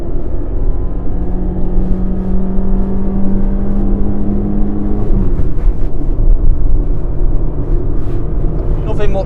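Peugeot 206 engine drones loudly from inside the cabin, a steady tone rising as it is worked toward the red line, then easing off around the midpoint, with road rumble underneath.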